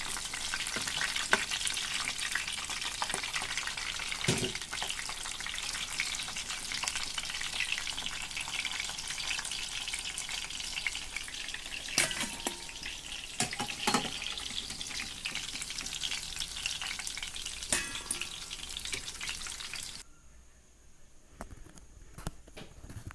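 Chicken 65 pieces frying in hot oil: a steady, even sizzle with occasional sharp pops and stirring clicks that holds for a long stretch, then drops off abruptly near the end.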